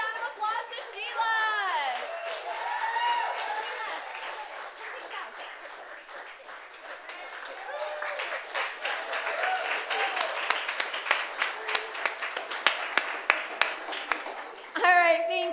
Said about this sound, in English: Give a big round of applause to Sheila!